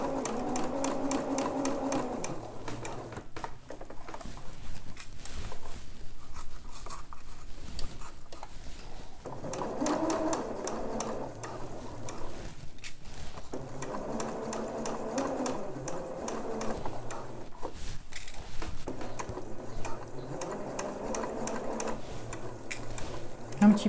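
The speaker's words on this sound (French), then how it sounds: "Un petit point arrière pour finir la couture." A domestic sewing machine runs in repeated bursts, stitching the seam of a bra with a steady rapid chatter and brief pauses between runs, close and moderately loud throughout.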